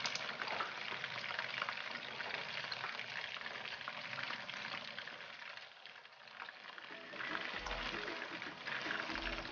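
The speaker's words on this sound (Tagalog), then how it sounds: "i-fry ko lang muna siya hanggang sa maluto yung meatballs." Meatballs frying in a pan, a steady close sizzle and crackle of hot oil that continues throughout with slight swells.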